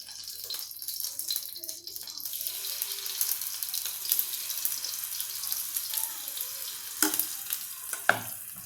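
Soft, steady sizzling of chilla batter frying on a hot pan, with faint clinks and scraping near the end.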